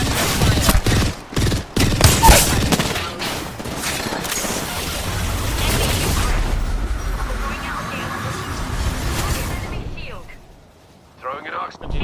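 Heavy gunfire in a shooter video game, bursts of rapid shots and explosive blasts early on, thinning into rumbling battle noise, with a voice speaking at times.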